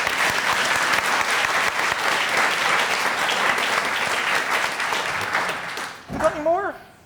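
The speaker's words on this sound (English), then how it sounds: "Give her a round of applause" An audience at a live science-festival show in Cheltenham gives loud, dense, sustained applause for about six seconds, which then stops as a voice speaks.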